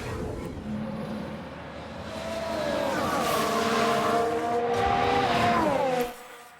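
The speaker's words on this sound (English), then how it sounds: "Sounds like there's been a crash." Race car crash in F1 Manager 22 with skidding tyres: a rising engine roar that turns into a long, wavering tyre squeal, loud and close, then cuts off abruptly.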